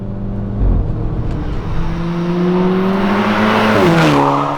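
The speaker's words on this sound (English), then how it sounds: "Tons of rushing air and intake noise." Mk5 VW GTI accelerating hard under full boost with wheel spin: a loud, continuous engine roar climbs steadily in pitch, with heavy turbo intake rush and rushing air. A gear change comes near the end.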